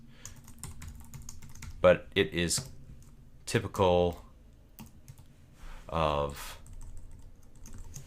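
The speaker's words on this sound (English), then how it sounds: "There's just going to be a lot of rote typing in order to make it all work." Rote typing on a computer keyboard while entering database table definitions, heard as steady soft key clicks through the whole stretch, partly under a man's intermittent speech.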